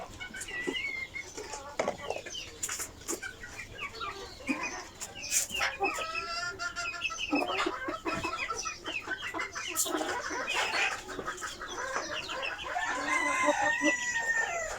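Chickens on a rooftop farm with built cages cluck and squawk continuously, with rooster-like crowing calls breaking out repeatedly at moderate distance amid faint voices.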